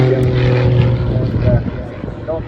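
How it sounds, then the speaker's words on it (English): A propeller-driven aerobatic aircraft maneuvering at the Southport Airshow, a loud steady engine drone with a shifting pitch and a commentator talking over it. "aircraft maneuvering in opposite rotation"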